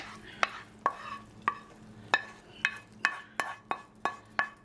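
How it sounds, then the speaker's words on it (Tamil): Sautéed tomatoes are stirred into cooked dal with a spoon against the pot, giving about a dozen sharp, close clinks at a steady, unhurried rhythm over a faint background hiss. "இந்த பருப்புக்குள்ள வந்து நாங்கள் இந்த வதக்கின தக்காளி பழத்தை எல்லாத்தையும் இதுக்குள்ள போட போகிறோம்"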